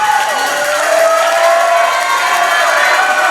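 A large crowd at Premier Arena cheers and applauds during a wrestling event, a loud, steady roar of voices and clapping filling the hall without pause.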